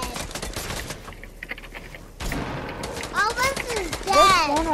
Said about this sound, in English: somebody shooting at me, and I'm dead